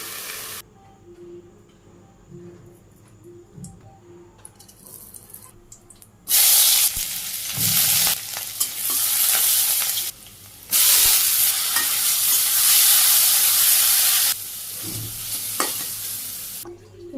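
Red amaranth greens fry in a pan in a village kitchen, with a loud, steady sizzle and hiss broken by brief pauses and stirring scrapes.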